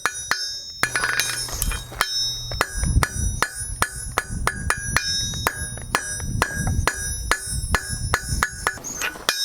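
A blacksmith hammers a forged steel point from square to round on an anvil, a steady run of sharp, ringing metallic strikes at an even pace, close and loud.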